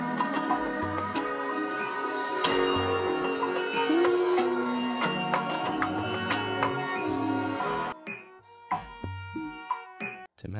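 A one-shot string-like lead synth built in FL Studio plays a melodic line over a fuller mix, then continues in sparse, choppy stabs toward the end, clear and upfront.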